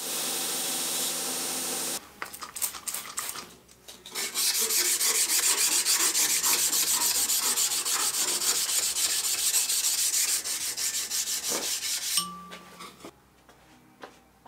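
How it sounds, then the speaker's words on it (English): A knife blade being hand sanded after hardening, with rapid rhythmic rasping strokes that come in bursts, then a long steady stretch of scraping, close and fairly loud. "And more grinding and hand sanding."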